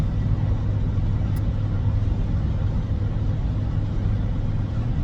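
Steady interior road noise from a car being driven, a continuous low rumble holding at an even level throughout with no voices.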